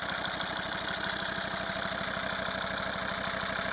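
A Volvo V50 D5 diesel engine idles with rattly lifters, a steady close clattering throb with a fast even knock, loud and continuous with no talk.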